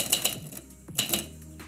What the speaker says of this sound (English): The action on these typewriters is really quick.